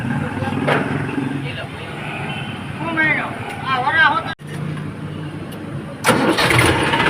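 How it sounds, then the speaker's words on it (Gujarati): A diesel tractor engine cranks and catches, then runs at a steady idle with voices talking over it and a burst of louder revving near the end. "આ ઉપડ્યું છે ટ્રેક્ટર"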